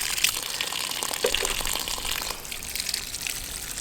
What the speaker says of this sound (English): the water goes straight through it